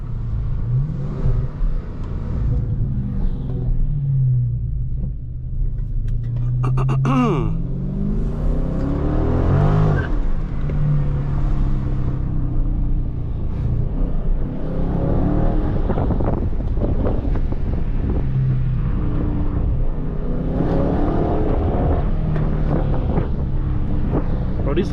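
A 2023 Dodge Charger Scat Pack Widebody Last Call driven through a neighborhood with the windows down: a deep engine drone swells into repeated revs and accelerations, with heavy wind buffeting and a person talking over it.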